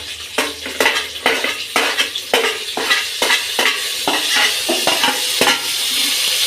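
Onions and tomatoes go into hot oil for brinjal curry and are stirred, giving a loud close sizzle with repeated rhythmic scraping strokes against the pan, no voices.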